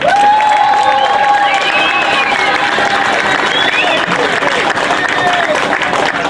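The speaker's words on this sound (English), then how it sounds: "let's give them a round of applause" An outdoor crowd at a Juneteenth gathering in a park applauds high school and college graduates, with steady clapping mixed with cheers, whoops and children's shouts, loud and continuous, while voices carry through the noise.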